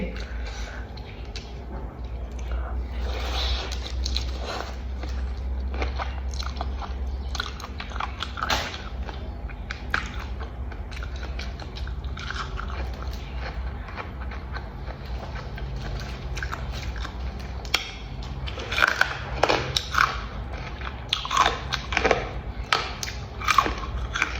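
Crispy, dry pork cracklings eaten with a fresh shrimp salad, heard as steady close crunching and chewing with repeated sharp bites that get louder toward the end.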